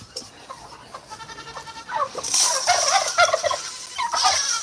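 Goats bleating at an animal farm, several nasal cries rising over rustling and farmyard noise, fairly close and growing louder toward the end.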